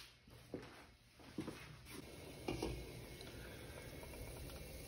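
Meatball broth for albóndigas simmers in a pot, giving off a faint, steady bubbling with small irregular pops and patter close by, with no voices.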